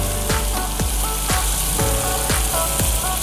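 Overripe bananas frying without oil in a Salad Master pan, a steady loud sizzle with regular crackling pops about every half second throughout.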